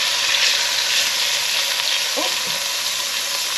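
Chicken pieces for coq au vin brown in a frying pan with a loud, even sizzle close by, as a voice briefly exclaims partway through.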